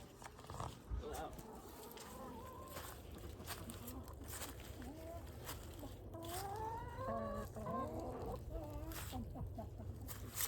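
Chickens near Okefenokee Swamp cluck and chatter in short, faint repeated calls with quiet footsteps and background noise, and a few people speak nearby.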